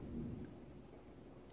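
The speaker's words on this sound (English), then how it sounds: "That was thunder, too." Thunder from a thunderstorm rumbles low and steady through steady rain, a faint, continuous roll with no voices over it.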